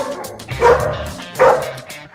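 A dog barks twice in quick succession, close and fairly loud, with a slight whimpering tone and faint background noise between the barks.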